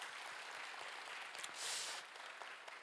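Church congregation applauding during an anniversary Sunday service, a soft, distant wash of steady clapping with a brief swell near the middle.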